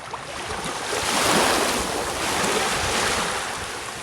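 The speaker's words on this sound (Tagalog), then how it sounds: "Maririnig mo yung hampas ng dagat. Dagat, hampas ng alon." Ocean surf on a beach in Gloria, Oriental Mindoro, rushes and crashes continuously close by, a broad roar of breaking waves swelling and easing, mixed with some wind noise.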